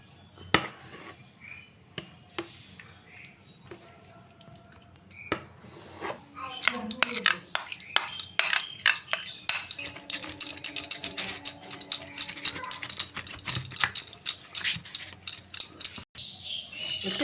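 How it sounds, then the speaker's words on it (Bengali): Milk cream being worked in a container for making ghee gives off sharp clinks and rattles, sparse and hesitant at first, then a busy stretch of rapid, irregular clattering knocks close by. "ওই ডাব্বার মধ্যে ভরে ফেটিয়ে নেব।"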